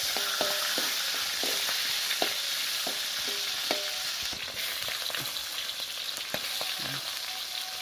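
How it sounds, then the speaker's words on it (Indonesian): Instant noodles with Aceh spices being stirred in a pan at an outdoor spot, a steady loud frying sizzle with regular clacking strokes of a utensil against the pan, no voices. "Kita pakai bumbu Aceh. Langsung aduk-aduk sampai rata."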